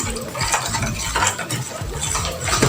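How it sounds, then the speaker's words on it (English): A spoon stirs and scrapes through a homemade shampoo base of dissolving STPP and soda ash in a container, giving a steady run of close clinks and rattles. "you keep stirring till you have a fully dissolved solution"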